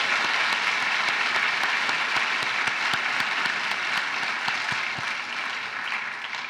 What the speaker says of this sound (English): Let's give a big round of applause to these volunteers.